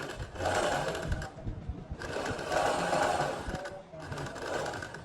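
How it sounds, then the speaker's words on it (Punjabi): A sewing machine runs in three bursts of rapid, steady stitching, laying a rough seam along a suit neckline, with short pauses between runs; near and fairly quiet. "ਇੱਥੇ ਵੀ ਇੱਕ ਆਪਾਂ ਰਫ ਸਲਾਈ ਲਾ ਦਿੰਦੇ ਹਾਂ ਬਿਲਕੁਲ ਵਿਚਾਲਾ ਕਰਕੇ"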